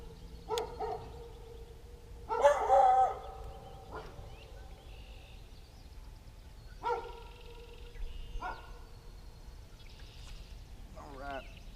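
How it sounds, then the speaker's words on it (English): Several dogs barking in short, scattered bursts at a moderate distance, with pauses between barks and quiet background noise. "Sorry about the dogs."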